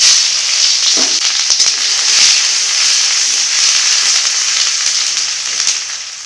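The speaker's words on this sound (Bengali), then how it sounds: "কড়াতে তেল দিয়ে দিব শুকনো লঙ্কা দুটো দিচ্ছি একটা তেজপাতা দিচ্ছি এবারে রসুন বাটা" Garlic paste sizzles loudly in hot oil in a wok alongside two dried red chillies and a bay leaf, a steady bright frying hiss with a few sharp crackles near the start, no voices.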